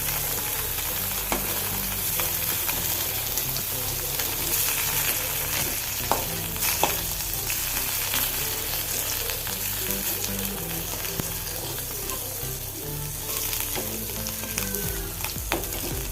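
Dried unakka mullan fish fries in a pan for a curry, with a loud, continuous oily sizzle and crackle and occasional sharp pops and stirring scrapes.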